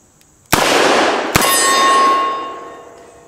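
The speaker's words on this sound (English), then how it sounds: "let's shoot some of these steel targets down here" A real gun fires at steel targets, including a stop-sign shape, at an outdoor range: two loud sharp reports, the second followed by a bright metallic clang that rings and slowly fades.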